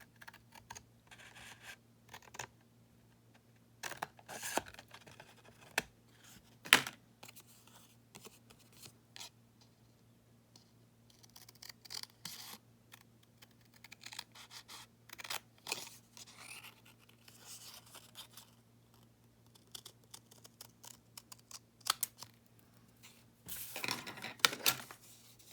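Scissors snip out paper bookmark pieces in a quiet room, with short irregular crisp cuts and rustles scattered across the clip over a faint steady hum.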